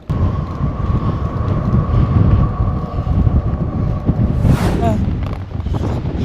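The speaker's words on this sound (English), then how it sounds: "I'm just like being blown into the road thanks to the wind" Strong wind buffeting a microphone beside a road on a tropical island in southern Taiwan, a loud continuous low rumble throughout with a steady tone and a brief passing whine near the end.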